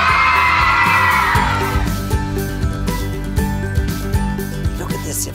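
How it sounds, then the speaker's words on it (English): Schoolchildren in a classroom let out a loud, high cheer and shriek for a live safari broadcast, a dense burst lasting about two seconds before it fades and a voice talks over scattered noises. "when you hear your school name shouted out, I want to hear a big cheer"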